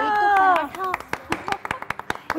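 A few sharp hand claps on a breakfast cooking show, first under a voice talking in a singing tone, then scattered, uneven claps on their own.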